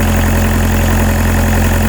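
A 1992 Volkswagen Jetta TDI diesel engine idles right after a cold start in snow, a loud, steady, close clatter with an even low rhythmic pulse and no talking.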